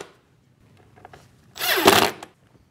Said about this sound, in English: Grab a pair of screws,